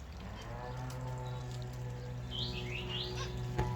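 Big black cockatoos give a short run of faint, distant calls over a steady low background hum.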